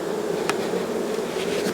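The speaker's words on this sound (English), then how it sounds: "as you can hear the hive now, the temperament is already starting to quiet down because it's getting put back together" Honeybee hive buzzing steadily while its boxes are put back together, a dense close drone with a couple of faint knocks or bumps from the hive parts.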